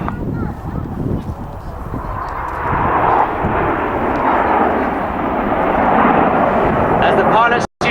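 Red Arrows jets flying a display formation at an air show, a loud sustained roar of engines swelling and holding steady throughout, with crowd or commentary voices under it.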